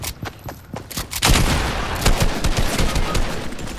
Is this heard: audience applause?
no